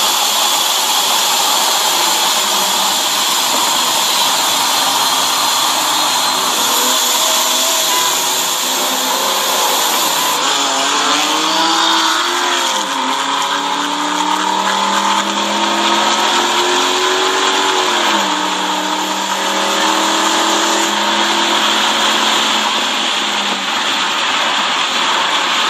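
Loud, roaring 5.0 V8 engine revving hard at SEMA Show 2018, rising and falling in sweeping bursts over a harsh continuous blare for the full stretch, close and dominant.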